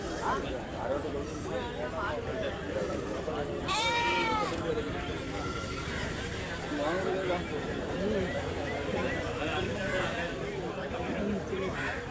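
Goats bleat several times amid a noisy farmyard, with people chatting in the background.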